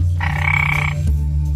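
A single loud, close frog croak, a sustained buzzing rasp lasting under a second over a steady low hum.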